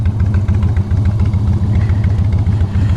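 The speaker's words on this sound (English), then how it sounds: "This Corvette behind me has been cruising around." A Corvette's engine rumbles steadily and loud, close by, its deep low throb continuous with slight pulsing as the car cruises past at a holiday motor gathering, with no talk over it.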